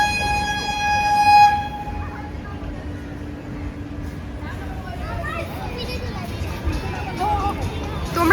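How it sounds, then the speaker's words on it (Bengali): A train pulls into a busy station platform, its horn blaring loudly for the first couple of seconds before fading into constant crowd hubbub, with people talking nearby throughout. "তো আমাদের ট্রেন চলে আসছে এইদিকে তো আমরা রেডি।"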